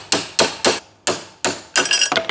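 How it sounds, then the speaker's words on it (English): A broken half-inch drive ratchet serves as a hammer on a car wheel, giving six loud, sharp metallic strikes spaced irregularly, followed by a quick rattling flurry of blows. "So we'll use this half inch drive ratchet that's already broken."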